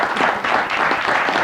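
A studio audience on a French television show applauding in a show-of-applause vote, a brief burst of dense clapping at steady loudness.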